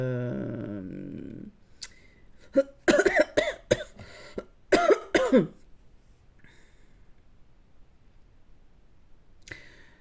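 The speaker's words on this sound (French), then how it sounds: "Je tousse encore, attention." Several sharp coughs in two close bursts, near and loud, after a short stretch of voice, then quiet with a faint throat sound near the end.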